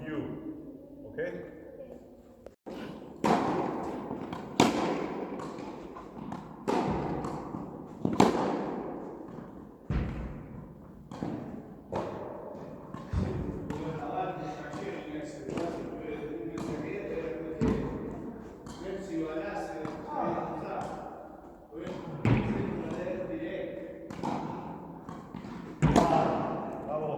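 Tennis balls struck with soft touch volleys over a rope during a training drill, giving a series of dull, evenly spaced thuds and pops close by as the rally continues, with no talking.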